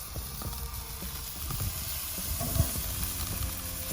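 Chicken pieces go onto a hot home grill with a steady hiss and sizzle, along with soft crackles and a few light thumps as the pieces are laid down.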